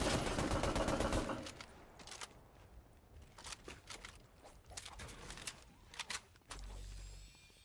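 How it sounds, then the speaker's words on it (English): Gunfire in the Fortnite Chapter 5 Battle Royale video game, with a loud rapid burst at the start followed by scattered shots and short bursts at varying distances, mostly without talk. "Oh my god, where's he shooting at?"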